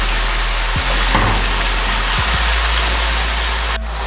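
Spice masala frying and sizzling in a pan for egg malai curry, a steady loud hiss with a few soft clinks of a spoon stirring, ending abruptly.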